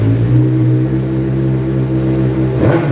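A 2023 Suzuki GSX-R 600 motorcycle with a GP-style slip-on exhaust revs indoors, a loud steady engine drone that swells into a sharp throttle blip near the end.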